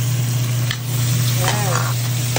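Bean sprouts sautéing in hot oil in a pan, a loud continuous sizzle with stirring and scraping, a steady hum underneath and a brief tonal squeak midway, no talking.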